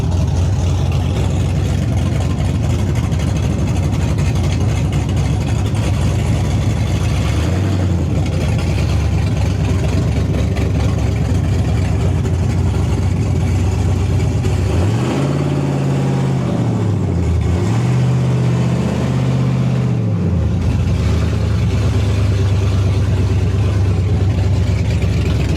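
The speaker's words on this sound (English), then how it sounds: "She's loud. She's a loud truck." Loud Chevy S10 truck on a Holley Terminator X setup with modified rear end and transmission, its engine rumbling continuously while driving, with a couple of deeper revving swells midway.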